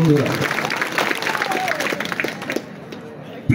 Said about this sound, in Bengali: আমরা সবাইকে একটা জোরে করতালির মাধ্যমে আন্তরিক ধন্যবাদ জানাতে চাই।